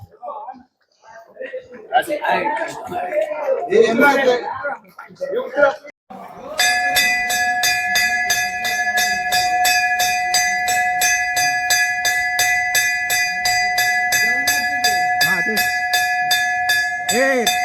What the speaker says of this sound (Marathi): जेवण झालं त्याची घंटा वाजवली आहे